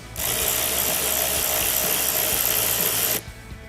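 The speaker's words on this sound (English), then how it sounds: "So we're gonna remove this nut." Power tool, likely an impact driver, removes a nut on a vehicle while installing a kill switch harness for light-up running boards: one sustained, loud whirring burst of about three seconds, then it stops, with no talk.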